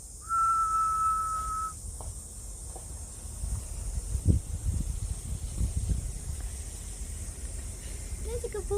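A single sustained whistled note, clear and close, lasting over a second, followed by soft rustling, scattered knocks and a steady background hiss.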